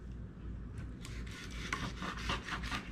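Knife sawing a crappie fillet off its skin, a soft repeated scraping rasp in quick back-and-forth strokes, close and fairly quiet over a low background hum.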